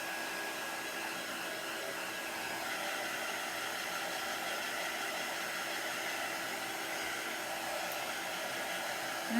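A hair dryer blows steadily on a handmade summer popsicle craft, a continuous close whooshing roar of airflow holding the same level throughout with no voices.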